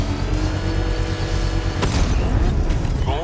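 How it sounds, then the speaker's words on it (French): A controlled bomb detonation in Batman: Arkham Knight, set off by electric winch: a continuous loud rumbling bed with a sharp burst near the middle, followed by crackling debris and low booming tail. "je peux déclencher une explosion contrôlée."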